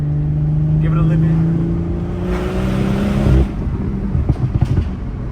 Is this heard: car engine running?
yes